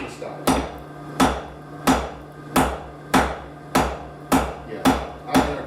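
A hammer forges steel stock on an anvil, eight evenly spaced ringing blows in a steady rhythm, each with a sharp metallic attack and short decay over a low background hum.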